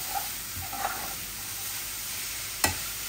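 Leafy greens (shak) being stirred and fried in a pan make a steady, soft sizzle with occasional scraping stirs and one sharp clatter near the end, with no talking.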